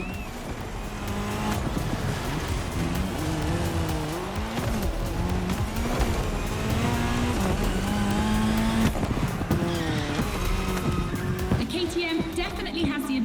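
Car engine in The Crew Motorfest racing game revving steadily with shifting pitch, tire squeal breaking out at intervals throughout, loud and continuous, with a voice talking over it.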